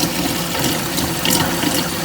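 Water runs and gurgles steadily as it drains from a Hoshizaki ice machine, a close, continuous splashing flow.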